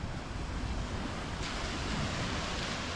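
Ocean surf rolling onto a beach, a steady broadband wash of breaking waves with wind noise on the microphone, continuous and fairly loud throughout with no voices.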